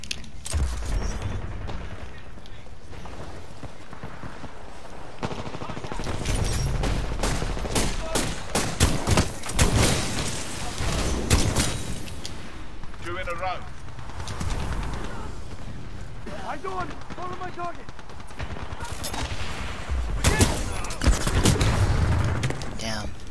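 Dense rapid gunfire from Titanfall 2, bursts and single shots crackling close and loud across the whole stretch, with game effects and occasional voice beneath the shooting.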